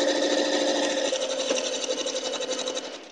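A sewing machine runs steadily while stitching a long quilt seam for a log cabin quilt, making a loud, close, continuous rapid whirring chatter that eases off slightly at the end.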